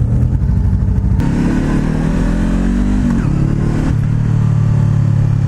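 A Honda CBR500R motorcycle engine drones loudly at close range while riding, its pitch rising under throttle, dipping briefly around a gear change, then settling into a steady hum.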